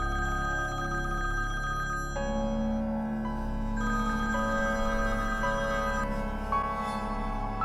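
A telephone rings indoors with a steady electronic ringing tone that shifts pitch in a repeating pattern, continuous and fairly loud over a low background hum, with no talking.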